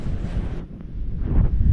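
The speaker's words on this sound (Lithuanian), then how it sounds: "kada toks vėjas" Gusting spring wind buffets the microphone outdoors on a breezy day, a steady loud rushing roar that dips briefly then swells again.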